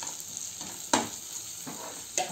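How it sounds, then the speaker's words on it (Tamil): Large-cut onions sautéing in a pan for butter chicken, a soft steady sizzle with several distinct stirring scrapes and one louder clatter, close up and alone without speech. "இப்போ வெங்காயம் கொஞ்சம் வதங்கட்டும்."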